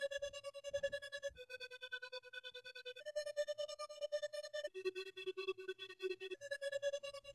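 A fast LFO tremolo from Soundtoys Tremolator chops a beat's sustained synth tones into rapid even pulses, the pitch stepping between a few notes over a quick rhythmic pattern.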